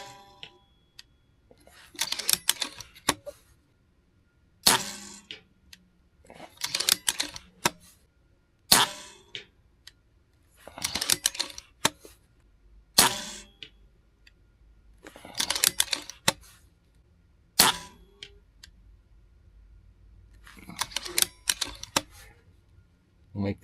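MA3 air rifle from Macavity Arms fires a string of sharp, separate shots about every two to four seconds, each followed by a brief ringing twang of the spring, quiet and close with no talking.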